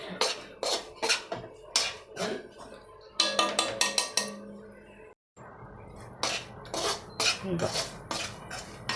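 A ladle and a small spoon clink against a metal cooking pot in bright, close bursts of rattling taps, with a brief silent gap midway and voices talking quietly underneath.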